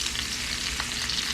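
Meat sizzles and fries in a hot pan as the first step of a southern-kitchen bone soup, a close, steady crackling hiss with a few brief stirring scrapes and no talking.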